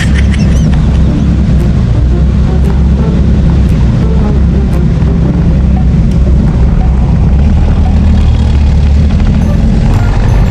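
A motorbike pushes through high-tide flood water on a street in Malabon, with a loud, continuous low engine drone and sloshing rumble that holds steady throughout.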